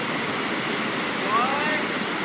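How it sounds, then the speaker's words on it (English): A 15-foot tiered sluice waterfall at Raven Cliff Falls gives a steady, broadband rush of falling water, constant and fairly loud throughout, with the faint edge of wind noise. "Hey Grant, is that a 15-foot tiered sluice waterfall?"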